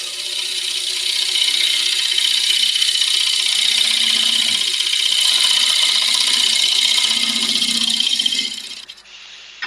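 Burr wood spins on a lathe as a parting tool cuts into it, making a loud, continuous rough scraping hiss that holds steady for several seconds before the cut eases and the noise drops away.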